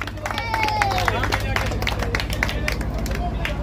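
Crowd at a local cricket tournament in Dahole clapping and cheering for the man of the match, a steady wash of applause and babble with a low rhythmic thump running underneath throughout.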